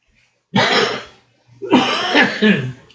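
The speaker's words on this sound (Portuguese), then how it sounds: "Perdoa essa tosse, hoje está demais." Two hard, close coughing fits, the first brief, the second longer and rougher after a short pause, with quiet in between.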